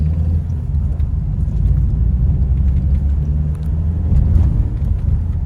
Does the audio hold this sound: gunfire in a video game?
no